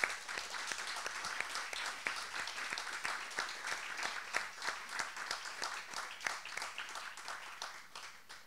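An audience applauds Rebeca at an anniversary tribute, the steady, fairly faint clapping of a modest crowd continuing for several seconds without other sound.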